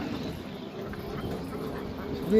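A large flock of more than 1500 farm ducks on a pond, young layers close to laying, makes a low, continuous murmur of quacking. A louder call comes near the end of the brief stretch.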